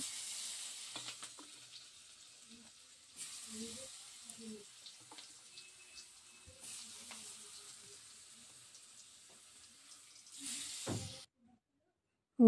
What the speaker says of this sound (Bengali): আলুতে হলুদ আর নুন মাখিয়ে নিচ্ছে, তারপরে ভেজে নেবে আলুটা